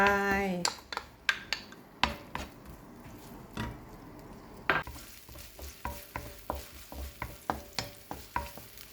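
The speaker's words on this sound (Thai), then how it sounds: "กระทะเราเดือดแล้วกระเทียมหัวหอมใส่ลงไป" Garlic and onion sizzle in a pan while a utensil scrapes and taps against it in a steady, rhythmic stirring pattern.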